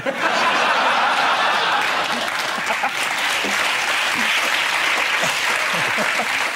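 Studio audience on a British comedy panel show bursts into sustained applause mixed with some laughter, loud and steady throughout.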